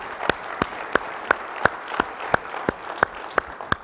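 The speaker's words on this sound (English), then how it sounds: "Give yourselves a really warm round of applause" A conference keynote audience applauds, a dense wash of clapping cut through by sharp, evenly spaced claps at a steady rhythm, close and fairly loud throughout.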